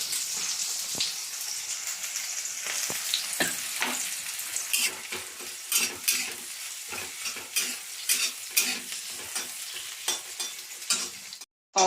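Onion and green chillies fry in hot oil for a home vegetable curry, a steady sizzle broken by repeated scraping stirs with a spatula in the pan, fairly quiet and close.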